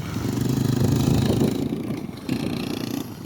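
A dirt bike engine on the Winchester Bay sand dunes in Oregon, a steady buzzing drone, loud and fairly close, dipping briefly before picking back up.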